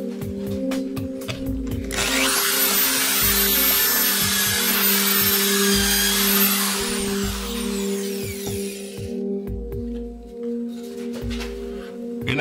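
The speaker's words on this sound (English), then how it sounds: "I'm gonna drill a hole over here" A power drill whines steadily, rising into a loud, sustained grinding roar as it bites into a 4-inch wood piece, then easing off.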